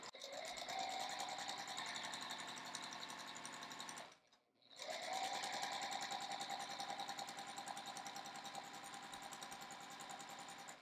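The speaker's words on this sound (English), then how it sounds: "just sew a 1/4-inch seam along here" A sewing machine runs a quarter-inch seam through quilt fabric in a loud, even, rapid mechanical whir, pausing about a second near the middle before starting up again at the same steady pace.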